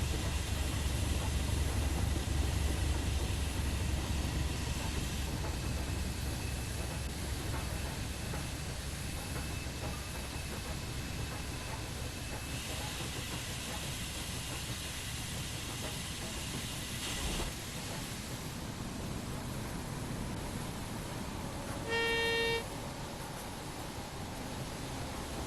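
Steam locomotive hauling a railtour train, a Jubilee class engine, passing with a steady broad hiss and rumble throughout, heavier low rumble at the start and a brief whistle-like tone near the end.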